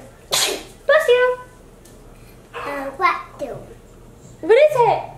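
A child sneezes once, loudly and close by, with a young kid talking before and after it in a quiet room.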